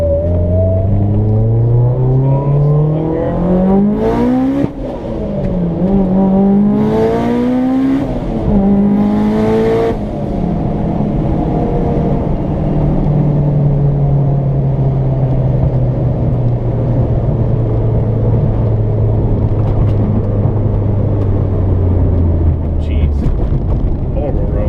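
A 2005 Mitsubishi Evo tuned to 456 horsepower and fitted with newer Michelin tires drives a road, its loud engine revving up through gears with clear shift breaks, then settling into a steady drone.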